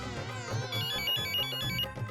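A phone ringtone plays a bright, melodic electronic tune, ringing steadily and clearly for a couple of seconds with no voices over it.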